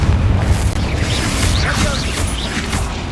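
Spell explosions from the Confringo and Bombarda spells in the video game Hogwarts Legacy burst in repeated booming blasts over a dense rumbling battle din. A voice shouts spell names over the noise.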